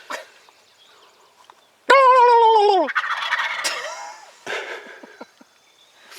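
Wild turkey gobbling during a spring hunt: a loud, close, rattling gobble with descending warbles, followed by softer scattered calls and rustles outdoors.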